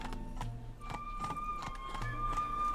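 A horse's hooves drum in a quick, running rhythm in The Witcher 3: Blood and Wine, with a steady tone sustained behind it and no one speaking.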